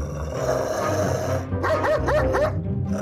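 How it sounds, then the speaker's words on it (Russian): Angry dog barking in a cartoon-style kids' story scene, a few short yelps and barks in a quick burst over steady background music. "Злая собака?"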